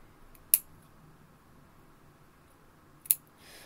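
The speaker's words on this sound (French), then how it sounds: "Si vous avez du fil qui filoche, hein, vous le coupez." Two sharp, bright snips of scissors cutting loose sewing threads, spaced a few seconds apart, over a quiet room.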